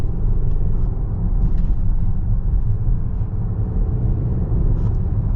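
A 2023 Volvo XC90 Recharge hybrid pulls forward with a steady, loud low rumble of engine and road noise heard from inside the cabin, continuous throughout with no talking.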